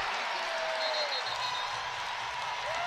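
A college basketball crowd in a coliseum cheers and applauds after a block leads to a transition bucket in a UNCG versus NC State game, a dense, sustained roar of clapping and voices throughout.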